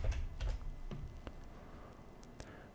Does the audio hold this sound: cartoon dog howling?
no